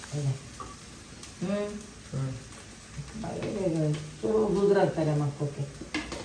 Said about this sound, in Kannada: ಎರಡು ಚಮಚದಷ್ಟು ಚಿಕ್ಕ ಚಮಚದಲ್ಲಿ ಎಣ್ಣೆ ಹಾಕ್ಕೊಂಬಿಟ್ಟು ಅಕ್ಕಿನ ಹುರ್ಕೋಬೇಕು